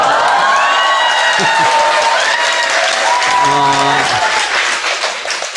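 A crowd of young people applauds and cheers at an election-season gathering in Korea, with loud whoops and shouting voices rising over dense clapping that fades slightly toward the end.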